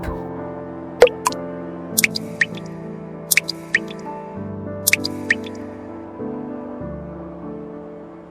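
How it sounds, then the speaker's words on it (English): Melting snow drips in sparse, bright single drops, about a dozen clustered in small groups, over soft sustained music in a children's story. "Slowly, slowly, the snow began to melt. Drip, drip, drip."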